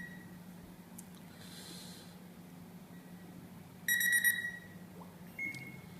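A SmartBBQ2 meat thermometer sounds a notification: a short burst of high, rapid electronic beeps partway through, then a briefer chirp, faint over quiet room hiss.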